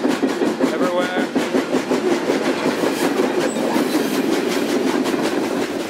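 A freight train rolls beneath a rider, producing a loud, continuous rumble with rhythmic clickety-clack beats from the wheels over rail joints throughout, with no voices.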